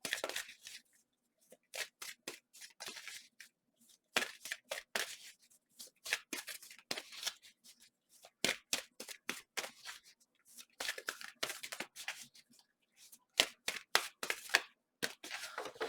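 Tarot cards shuffled by hand with the deck held face out, giving repeated bursts of crisp riffling and flicking in short, uneven runs with brief pauses between them. The sound is close and fairly quiet, and nobody talks.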